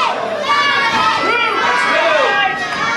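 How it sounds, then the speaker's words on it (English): A wrestling crowd chants a wrestler's name, a dense wash of many voices blending with shouts and chatter, loud and continuous throughout. "This crowd's chanting Scotty's name, trying to get him back motivated."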